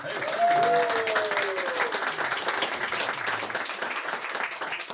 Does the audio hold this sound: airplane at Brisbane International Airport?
no